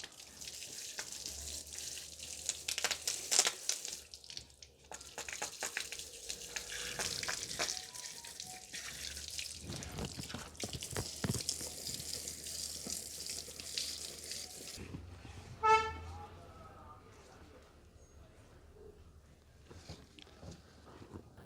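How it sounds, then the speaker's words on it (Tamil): Running tap water splashes over a motorcycle chain sprocket during a wash, a steady broadband spray lasting about fifteen seconds with bursts and splatters, then cutting off to quieter drips and small clatters. "க்ளீன் பண்ணி முடிச்சதுக்கப்புறம் நம்ம ஸ்ப்ராக்கெட்டை வாஷ் பண்ணிக்கலாம்"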